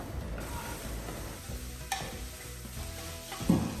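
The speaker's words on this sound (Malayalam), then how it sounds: "ഇനി നന്നായിട്ടൊന്ന് വഴറ്റിയെടുക്കുകയാണ്" Green chillies and black pepper are sautéed in a pan, with a steady soft sizzle and faint stirring scrapes throughout, plus one small clink near the end, no talk.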